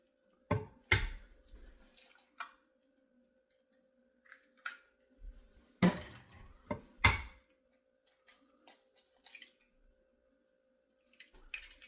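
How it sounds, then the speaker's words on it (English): Eggs cracked into a pan of shakshouka with Italian sausage make a few sharp clicks and taps, some clustered close together, with quiet gaps and soft small knocks between, with no talk. "Now I'm going to crack three eggs into this pan."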